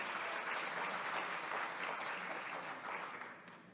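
Sustained audience applause at an ocean forum keynote session, a dense wash of many hands clapping steadily for nearly four seconds, easing off slightly toward the end.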